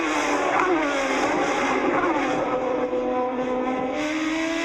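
An IndyCar race car accelerating hard at Watkins Glen: a loud, close engine note that holds a steady, high-pitched howl for the whole stretch without a break, with no voices over it.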